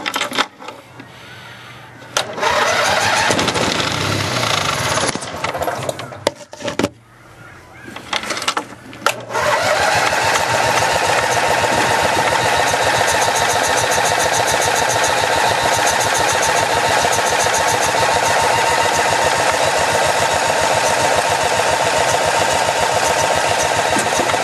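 An old Roper small engine with no throttle control cranks in a few rough bursts, then catches and runs at a loud, steady, continuous drone for the remaining stretch, close by with no talking.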